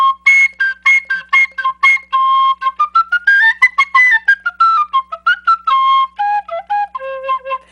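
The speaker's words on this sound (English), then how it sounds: "I find that if I do the same thing with the penny whistles" A penny whistle plays a run of clear, bright notes close up, in short tongued phrases with a rising and falling melody and no other sound.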